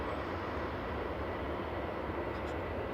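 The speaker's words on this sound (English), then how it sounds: "I couldn't hear what you were saying because of the plane" An airliner departing from Manchester Airport, a steady, dense broadband engine roar that holds constant throughout, loud and continuous with no break.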